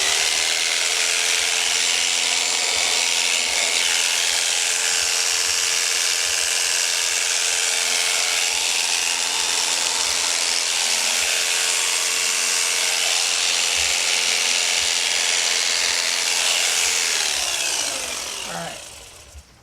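Electric shears buzz steadily through alpaca fleece near the armpit, a close, loud, continuous mechanical whine that runs unbroken before cutting off at the end.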